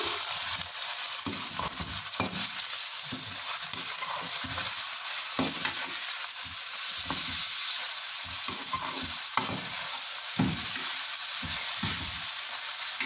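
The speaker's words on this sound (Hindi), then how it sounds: "इसमें हल्का सा कीमे को भून लेंगे।" Mutton mince frying in a pan, a steady close sizzle with irregular scraping and clacks of a spoon stirring throughout, no voices.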